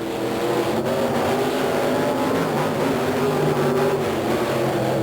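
Monster truck engines from the 1990 TNT Monster Trucks show in Myrtle Beach, South Carolina, roar steadily and loudly throughout, a dense continuous rumble of revving motors at the start of a race with no talk.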